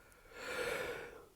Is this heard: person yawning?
yes